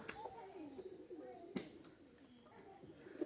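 Pigeons kept for sale, fancy breeds, coo softly in low rounded calls at close range, with scattered rustles, flaps and faint clicks in a quiet space.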